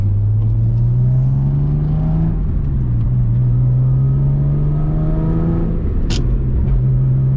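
A totaled Subaru SVX drives with a loud, close engine drone whose pitch climbs steadily, then dips briefly at two gear changes before rising again, with no talking.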